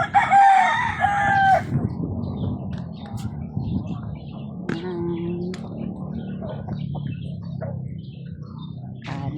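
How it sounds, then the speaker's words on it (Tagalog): Chickens on a farm at feeding time: a rooster crows loudly up close, then hens cluck and squawk steadily underneath, with faint voices in the background. "Dito kami sa farm, nagpakain ng manok."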